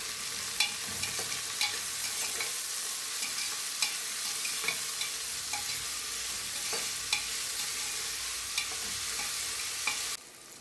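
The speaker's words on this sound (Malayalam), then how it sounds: "ആവശ്യത്തിനുള്ള ഉപ്പും കൂടി ചേർത്ത് നല്ലതുപോലെ ഒന്ന് വഴറ്റി എടുക്കാം" Ingredients sauté with salt in a hot pan, giving a continuous soft sizzle broken by regular spatula clicks and scrapes, then the sound drops off abruptly near the end.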